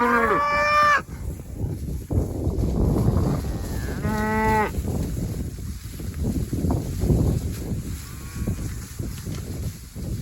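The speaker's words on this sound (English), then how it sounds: "Nothing that says happy quite so well as a cow on fresh grass." Cattle on fresh pasture moo loudly and close by, with two long, drawn-out calls early on over steady outdoor wind and rumble.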